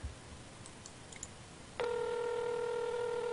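An outgoing phone call's ringback tone starts partway through, a steady electronic ring that follows a stretch of faint background noise and holds loud and continuous to the end.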